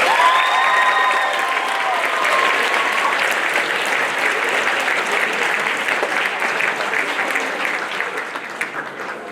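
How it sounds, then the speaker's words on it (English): An audience applauds Grade 11 award nominees at a school awards ceremony, a steady, full round of clapping from a sizable crowd that gradually thins out, with a brief electronic tone near the start. "Can we please show a round of applause for all of our Grade 11 nominees?"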